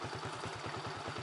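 A motorcycle engine on a humid mountain pass road in Ha Giang, Vietnam, gives a steady, rhythmic low chugging for a short moment, fairly close and continuous with no talk over it.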